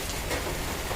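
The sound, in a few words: rain falling outside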